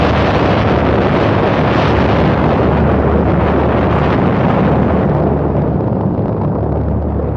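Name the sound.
atomic bomb explosion over Hiroshima, documentary effect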